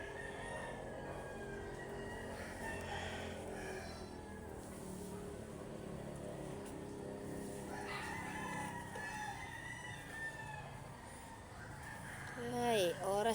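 A rooster crows outdoors among other birdsong on a cold morning, the call moderately distant with a louder crow rising near the end, mixed with background voices talking throughout.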